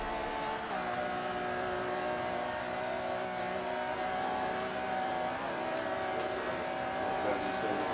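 A race car with a Le Mans tune holds a steady high-revving drone down a straight in a racing game, continuous and fairly quiet with faint talk beneath it.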